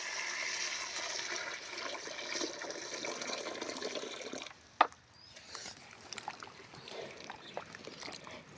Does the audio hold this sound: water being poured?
yes